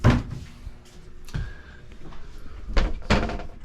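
A cabin door aboard a 1982 Catalina 30 sailboat opens and closes, giving a few distinct wooden thunks and clacks spaced across a few seconds, close and fairly loud, with no talking.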